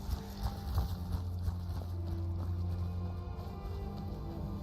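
A reindeer's hooves clip-clop steadily in the Skyrim video game, an even walking rhythm over a constant low ambient hum, moderately loud and alone.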